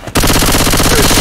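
Rapid automatic gunfire in Left 4 Dead 2 on the Hard Rain and Dark Carnival campaigns, a loud, close, evenly spaced stream of shots that starts abruptly and keeps going without pause.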